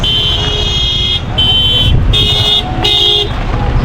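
Car horns in an anniversary motorcade for Old Harbour Primary school, four loud close beeps in an irregular series over steady traffic rumble, with faint voices nearby.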